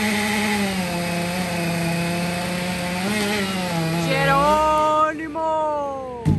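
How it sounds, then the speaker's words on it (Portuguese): A chainsaw cuts down trees, its engine droning loudly with pitch rising and falling as the blade works through wood, close by and steady, with voices talking over parts of it. "tamanho da motosserra do cara."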